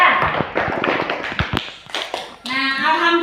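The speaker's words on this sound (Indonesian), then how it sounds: "Tepuk tangan untuk kelompok" A classroom group claps for one team during an Islamic religious education lesson: a short burst of quick, light handclaps mixed with student voices, followed by a voice speaking near the end.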